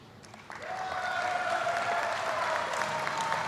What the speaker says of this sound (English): please give a warm round of applause to our Law Enforcement Officer of the Year, Lieutenant Jane Anderson.